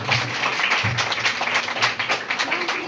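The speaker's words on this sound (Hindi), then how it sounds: "जोरदार तालियां।" Audience applause during an inspirational stage play about Thomas Alva Edison, a brief, fairly dense patter of many hands clapping with a faint voice underneath.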